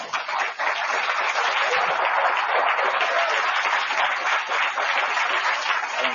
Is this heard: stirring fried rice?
no